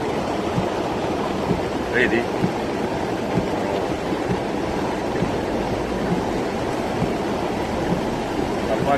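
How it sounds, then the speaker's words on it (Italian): Storm floodwater about half a metre deep rushes through a street in Capri, a loud continuous churning roar with someone talking briefly over it. "Livelli 50 centimetri di acqua e qua c'è la forza"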